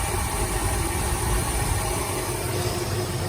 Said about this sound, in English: Running pretty nice. Nice even idle.